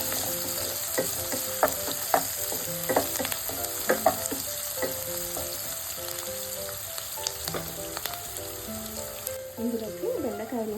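Chopped onion and other chopped ingredients fry in oil for an okra stir-fry, a steady sizzle broken by scraping and clinks of a spatula against the pan, with a voice briefly heard near the end.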